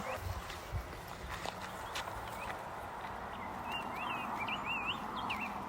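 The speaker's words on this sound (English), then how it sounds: "Oh, listen to the birds." Birds chirp and whistle in short sweeping phrases over a soft outdoor background, with a few dull thuds of movement early on.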